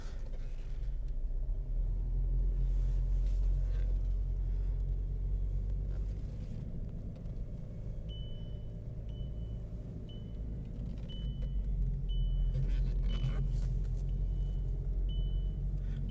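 A Skoda Octavia 1.9 TDI automatic idles with a steady low diesel rumble, then creeps along without throttle; a repeating parking sensor beep chimes in the second half.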